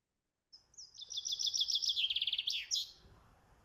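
A recorded bird chirps alone in a clean, quiet recording: a bright, high-pitched trilling phrase of rapid repeated notes lasting about two seconds, ending with a short rising flourish.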